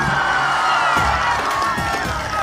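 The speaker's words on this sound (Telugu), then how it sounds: "గట్టిగా చప్పట్లు కూడా చెప్పండి వాస్తవం అని" A large crowd at a Telugu Desam political rally in Andhra Pradesh cheers and shouts in a steady, loud roar, with scattered claps and whoops rising through it.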